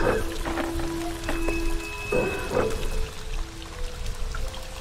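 Water pours in the In Verbis Virtus video game, a continuous splashing flow with tonal game sounds layered over it, steady at moderate level throughout.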